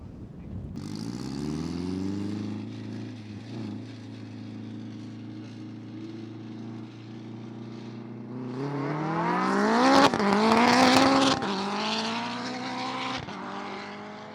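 A shop-built Honda car engine warms up: it starts, settles into a steady, droning idle close by, then revs up loudly around the middle before easing back, with no voices.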